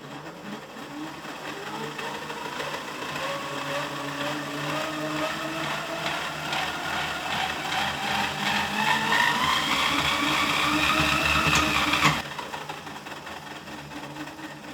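A 3D printed three-phase generator spins with a steady whirring hum that rises in pitch as it speeds up, then cuts off sharply near the end, leaving a fainter residual whir.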